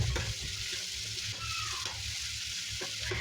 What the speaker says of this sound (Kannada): ನಾನು ಲೋ ಫ್ಲೇಮಲ್ಲೇ ಈರುಳ್ಳಿ ಮತ್ತು ಅದನ್ನೆಲ್ಲ ಫ್ರೈ ಮಾಡ್ತಾಯಿದ್ದೀನಿ